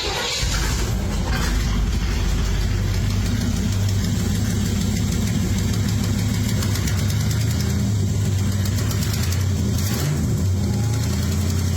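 A classic car with a big-block engine and side pipes idles loudly and steadily nearby, a deep, continuous rumble that holds throughout in a garage.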